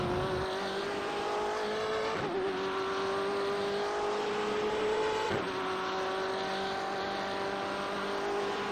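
A BMW M8 GTE race car engine drones steadily at high revs in iRacing at Mosport, with two quick shifts breaking a rising pitch, loud and continuous with no talk.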